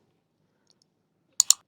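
Two quick mouse clicks close together, crisp and near, with silence before them, as a next button is pressed during an online WordPress theme purchase.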